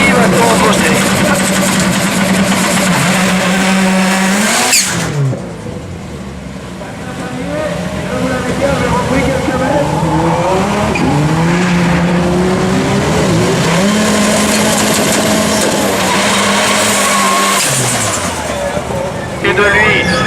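Citroën C4 rallycross cars at Lessay race in a pack, engines loud and close with rising and falling revs as they pass and slide, while a commentator talks over them throughout.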